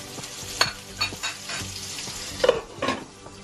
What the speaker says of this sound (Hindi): मुझे हरी मिर्ची पसंद है छोटी छोटी करके, उसको बिल्कुल क्रिस्पी कर लेती हूँ।